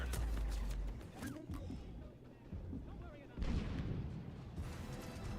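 Turret gunfire in Mass Effect 3 erupts in booming bursts and rattling shots during a firefight, mixed with combat noise and voices, moderately loud with a fresh heavy barrage near the end.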